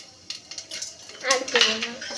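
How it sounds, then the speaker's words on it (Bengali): Panch phoron spices go into a hot pan with metallic clatter of a spoon against the pan, then a brief crackling burst as the seeds hit the oil, close and fairly loud. "এইবারে দেব 5 ফোড়ন"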